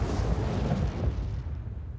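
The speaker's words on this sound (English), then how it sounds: "Das ist eine große Explosion." Big explosion in the video game Zero Time Dilemma, a loud, deep rumbling blast that fades out over about two seconds.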